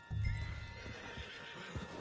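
Horse in Red Dead Redemption 2 gives a loud, close neigh at the start, followed by snorting and a few hoof clip-clops as it settles, with no talking.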